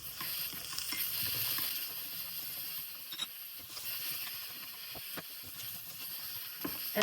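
Mushrooms, carrot, dried mushroom and tempeh fry in a pan for a vegan sweet and sour dish, giving a steady close sizzle with scattered clicks and scrapes of stirring.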